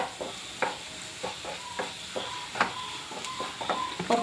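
A spoon scrapes and knocks through curry in a pan after turmeric powder goes in, for an egg fry curry, regular strokes about every half second over a soft sizzle, close and clear with no talk.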